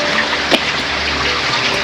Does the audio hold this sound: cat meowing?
no